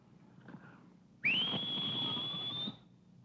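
A single sustained whistled note, rising slightly at the start and then held steady for about a second and a half before stopping, over faint background noise.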